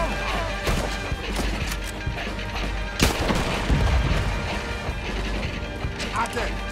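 Gunfire and cannon blasts during a battle in Red Dead Redemption 2, with repeated sharp shots and heavy booms over constant clatter, while voices shout beneath.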